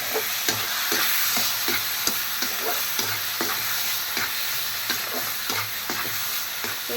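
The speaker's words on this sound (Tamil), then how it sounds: "நல்லா வதக்கிக்கிறேன்" Onions sautéing in a pan for an onion pickle, a steady hiss of frying under regular scraping stir strokes, close and continuous.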